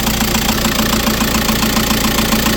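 A 2010 VW Caddy 2.0 SDI diesel engine idling just after its first start following repairs, a steady, loud, close, rhythmic diesel clatter with an even low throb throughout.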